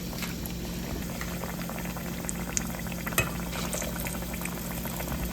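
Vadai batter bubbles and sizzles steadily in hot oil for a roadside-style sundal vadai. The fry is dense, continuous and close, with a few small pops and no speech.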